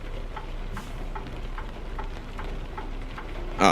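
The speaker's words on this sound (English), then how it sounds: "Hopefully this rain will clear up." Steady rain falling on a truck in American Truck Simulator during a delivery in Montana, a continuous soft hiss with faint regular ticking, followed by a brief louder burst at the end.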